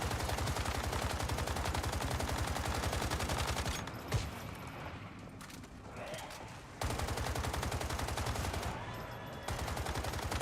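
Sustained rapid gunfire in the video game Once Human, loud and continuous, with a break of a few seconds in the middle before the shooting resumes.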